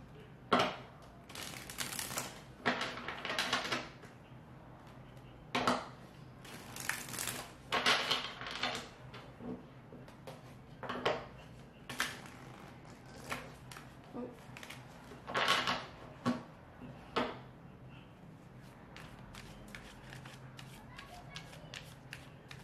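Tarot cards being shuffled and drawn from a deck, with repeated bursts of papery riffling and card slaps at irregular intervals, close and moderately loud, no talking.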